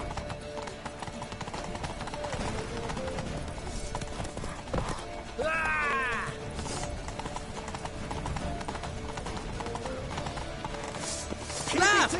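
Rhythmic clip-clop of horse hooves running steadily in The Witcher video game, with a horse whinnying briefly midway and again near the end over a busy background of shouting.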